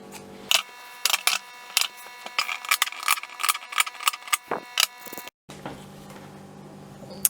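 Scissors cutting notches into satin and lace dress fabric, heard as a quick series of sharp, close snips and clicks in an irregular rhythm, followed by a short pause and then a duller rustling handling sound.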